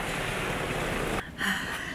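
Steady rushing water and engine drone inside an enclosed boat cruising on a rainy day in Lithuania, loud and continuous, dipping briefly before resuming.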